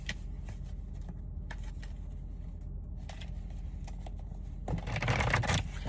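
Tarot cards are shuffled by hand in short, crisp riffling bursts separated by quiet gaps, close and fairly soft, ending in a louder, fuller flurry of cards.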